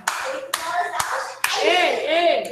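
Children clap their hands in time during a school dance activity, a few sharp, evenly spaced claps over a bright, lively voice, with an adult calling out over the beat.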